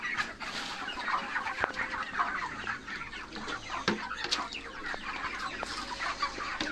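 Broiler chickens in a village in Sunsari, Nepal cluck steadily while being given water, a dense, continuous chorus of overlapping calls close by with occasional sharper squawks.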